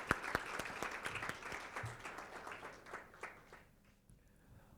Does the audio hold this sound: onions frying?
no